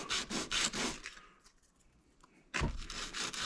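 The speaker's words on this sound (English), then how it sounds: "we'll just take a piece of sandpaper, lay it down" Sandpaper rubbing along a thin wooden arrow shaft in several quick, rhythmic strokes, then a pause with soft handling noise, and the scraping resumes loud and close.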